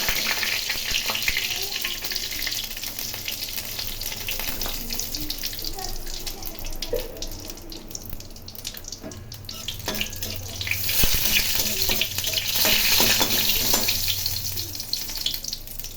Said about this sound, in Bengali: শুকনো লঙ্কা, তেজপাতা এবং জিরে ভেজে নিচ্ছি।